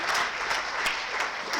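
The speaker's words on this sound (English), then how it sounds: "So a big round of applause to all the three program coordinators." Steady audience applause fills a hall at an award ceremony, a dense wash of clapping that runs evenly throughout without voices.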